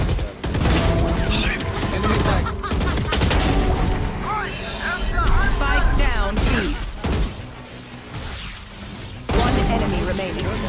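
Video game gunfire crackles in rapid bursts throughout a dense, noisy mix, with people talking over the shots and a brief lull near the end before the firing resumes.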